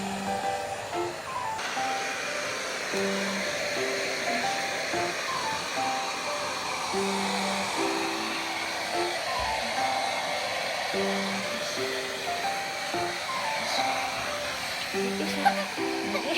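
A hair dryer blows steadily on a toy poodle puppy after a shampoo, a constant close airy whoosh running throughout while voices talk softly over it.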